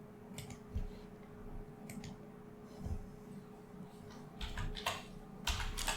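Keys tapping on a computer keyboard in scattered short bursts, with quiet pauses between them, fairly close and soft against a steady low hum.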